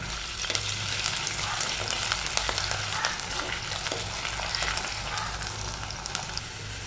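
Chopped garlic and ginger fry in hot oil with a continuous close crackling sizzle, dotted with frequent sharp pops and a steady low hum underneath, without any voices.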